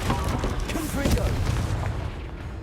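Spell blasts in the Hogwarts Legacy video game, a Confringo fire spell among them, thud as low booms through a dense, continuous barrage of combat noise with brief voice fragments.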